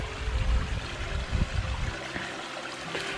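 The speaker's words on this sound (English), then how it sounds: "You can hear the water going over that root." Shallow stream water spilling over a tree root at an RV campsite, a steady close trickle and rush that runs continuously without any voices.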